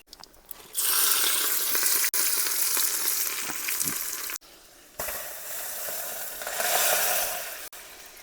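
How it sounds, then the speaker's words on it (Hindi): Cumin seeds, asafoetida and chilli tempering in hot oil for a lentil dish, cooked outdoors by a holy man in a ravine setting: a loud, steady sizzle and crackle that runs throughout with brief dips, no talk. "महाराज जी जीरा का तड़का लगा रहे हैं।"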